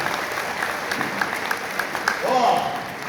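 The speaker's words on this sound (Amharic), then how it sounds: "እስቲ ለኢትዮጵያ አምላክ አጨብጭቡለት።" A church congregation claps together in praise, a steady dense patter of hands spread through the room with a voice rising over it near the end.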